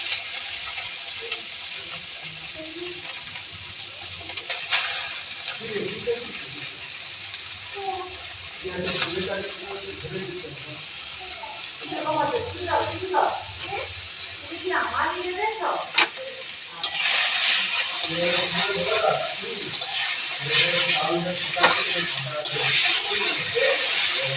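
Chow mein noodles stir-fried in a pan at home, with intermittent sizzling and stirring under a person's talk, and the frying growing louder and steadier in the last few seconds.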